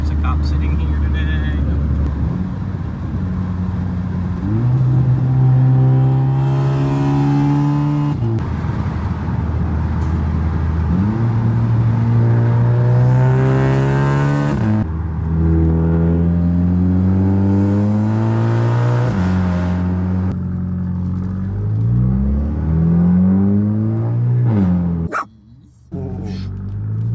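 A VW MK6 GLI's exhaust roars through a series of loud, close revving pulls, each pitch rising sharply then dropping as the next gear or rev climbs, repeated around half a dozen times before a brief cut near the end.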